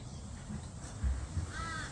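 Crows caw outdoors, giving a couple of harsh calls against low background rumble, with no voices.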